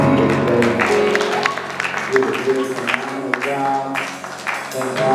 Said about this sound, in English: Give the Lord a hand clap of praise for our youth and young people today